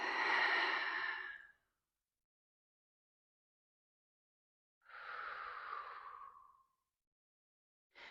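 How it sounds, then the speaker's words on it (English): Slow, deep breaths during a standing yoga pose for the hips and low back, two long audible exhales separated by silence, close to the ear, with the start of another at the end. "I breathe."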